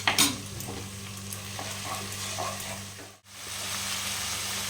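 Ground onion paste sizzles steadily in a hot pan for a Bengali rohu fish curry, with soft stirring scrapes over a low constant hum and a brief drop to near silence partway through.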